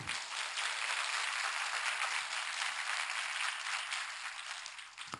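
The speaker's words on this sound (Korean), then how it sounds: "좋아요 할 것 같으면 박수 부탁드릴게요" Audience clapping at a lecture for court officials, a dense, steady wash of many hands that holds evenly for several seconds before thinning out near the end.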